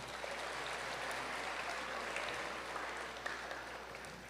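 Audience applause at a 2024 eighth grade promotion ceremony, a steady wash of many hands clapping at moderate distance, sustained evenly for a few seconds.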